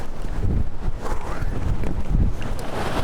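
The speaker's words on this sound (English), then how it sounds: "Wouldn't be so bad if it wasn't for the wind." Strong wind buffets the microphone beside a river in New Zealand backpacking country, a loud, uneven roaring that surges and dips throughout.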